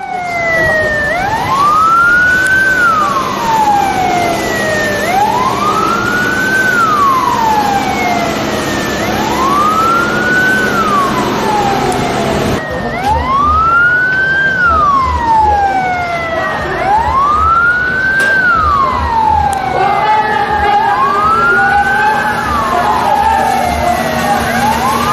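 A river ambulance on the Martapura River in Banjarmasin sounds its wailing siren, a loud rising-and-falling cycle repeating every few seconds, joined midway by a second overlapping siren and an engine hum.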